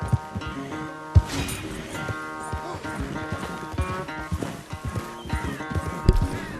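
A horse named Jeremiah gallops in Red Dead Redemption 2, with rhythmic clip-clop hoofbeats and occasional heavier thuds over a continuous game music bed, close and fairly loud.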